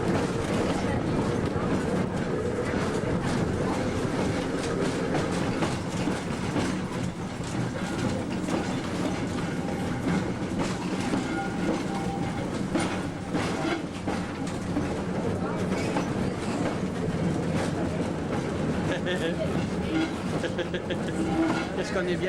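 A tram runs on rails with a continuous rumble and repeated clickety-clack wheel beats over the joints, while passengers talk over the noise.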